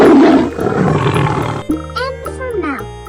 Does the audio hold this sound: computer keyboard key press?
no